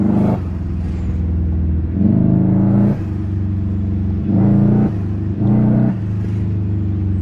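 Loud car engine with a Grimspeed cold air intake and a blow-off valve set to hard revs in repeated bursts, rising and falling several times over a steady idling rumble, close by.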